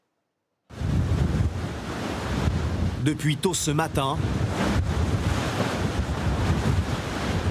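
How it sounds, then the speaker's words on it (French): Storm waves several metres high crash against the Quiberon seawall in Brittany, a loud roaring surf with heavy wind buffeting the microphone; someone speaks briefly in French over the din partway through. "des vagues de plusieurs mètres s'écrasent sur la digue de Quiberon dans le Finistère"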